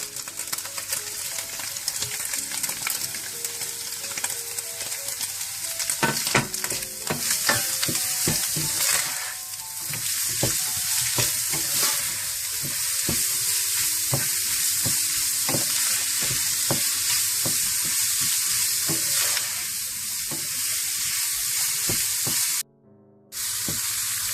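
Carrots, green onion and capsicum frying for Chinese rice, giving a continuous loud sizzle with scraping, clattering stirring strokes, close by and without speech, cutting off briefly near the end.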